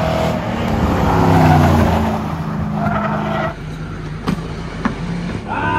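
A backup race car laps a track during a 24-hour endurance run, its engine droning loud and close from inside the cockpit, with tire squeal rising through the first seconds and a few sharp knocks near the end.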